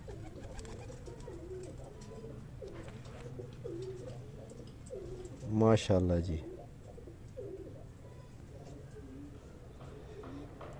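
Pigeons coo softly on a rooftop in a steady repeating rhythm, with a brief burst of a voice and louder sound near the middle.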